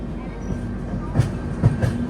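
A Garib Rath Express train leaving Kayamkulam station, a low steady rolling rumble from inside the carriage with a few soft knocks and clunks at intervals.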